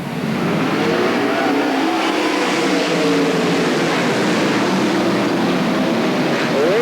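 World of Outlaws sprint cars roar around the Cottage Grove Speedway dirt oval at a restart, a dense, continuous, loud engine drone with rising and falling revs from the whole pack.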